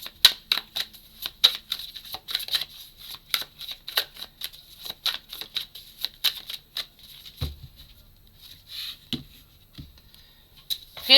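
Close, crisp tarot card shuffling sounds as a fast stream of flicks and riffles that thins out toward the end, punctuated by a couple of soft thuds and no speech.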